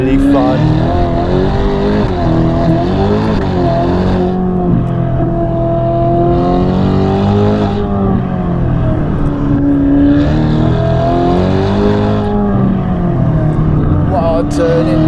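A 704 hp Novitec Ferrari Roma with a brutal aftermarket exhaust system drives on a twisty road, its engine note rising and falling in repeated revving sweeps, loud and close, with a voice talking over it.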